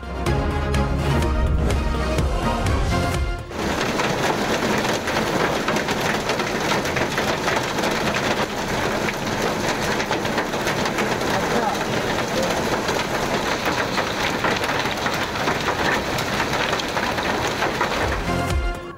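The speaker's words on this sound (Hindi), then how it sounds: "इस्लामाबाद रावलपिंडी में मूसलाधार बारिश और यालाबारी।" Torrential rain pours over Islamabad and Rawalpindi in a hailstorm with thunder, a dense continuous roar of drops hammering surfaces, loud and unbroken, following a few seconds of broadcast news music at the start.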